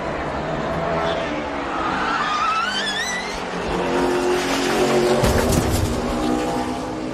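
An Xfinity Series race car roars past with squealing tires, then a heavy crash impact into a barrier bursts out, with a commentator talking over the noise.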